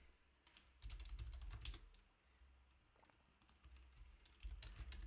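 Keys clatter on a computer keyboard in short bursts of quick typing separated by pauses, close but fairly quiet.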